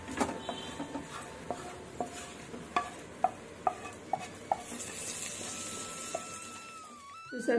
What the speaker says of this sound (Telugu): తాలింపు అయిపోయిందండి